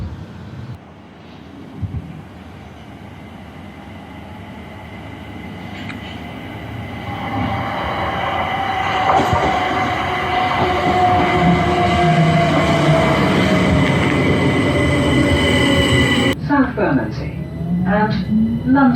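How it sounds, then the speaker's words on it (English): A train pulls into a suburban London station at the end of a walk, a rising rumble with squealing wheel and brake tones building and sustained, then fading into quieter hum near the end. "I've got a train that's coming up in about 3 minutes time"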